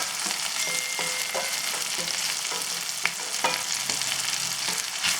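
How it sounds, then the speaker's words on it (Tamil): Chilli, turmeric and coriander powder fry in oil for a parotta-shop empty salna, giving a steady close sizzle broken by scattered scrapes and taps of a stirring spoon, with no one talking. "இதெல்லாம் வந்து இந்த எண்ணெயிலே வந்து ஒரு 2 நிமிஷத்துக்கு ஃப்ரை பண்ணிவிட்டு"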